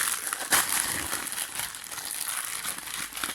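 Plastic blister packaging around a Warhammer Conquest figurine crinkles and crackles steadily up close as it is worked open by hand, with one sharper snap early on.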